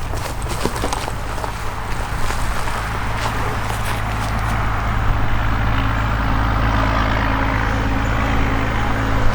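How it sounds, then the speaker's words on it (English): A loud truck rumbles past a person riding a HEYBike e-bike on a road, a heavy low engine drone with rushing road and wind noise that builds and stays strong throughout. "Loud truck going by."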